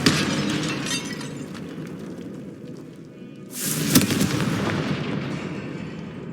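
A Confringo fire spell blasts in the Hogwarts Legacy game: rumbling crackle, then a sudden loud explosive burst with shattering debris that rolls on and fades.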